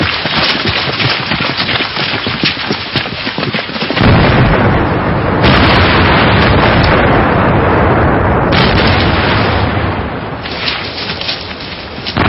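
Gunpowder blasting during work in the Qinling mountains, a run of loud, dense booms and rumbling bursts that roll together continuously with no voices.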